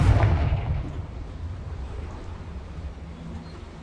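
A Confringo explosive spell blast in Hogwarts Legacy: a loud, booming burst at the start that decays into a low rumble fading over a few seconds.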